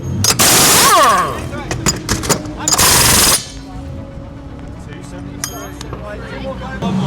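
A gun is fired in two very loud, sharp blasts, each with a ringing decay, followed by quieter background noise with people talking nearby.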